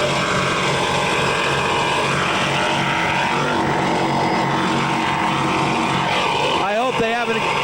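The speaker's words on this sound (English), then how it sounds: "There's also kind of an odd sound coming out of the engines." APBA Chrysler Laser 200 racing powerboats in a 1983 race, their engines giving a loud, continuous droning roar throughout, while commentary carries on over the noise.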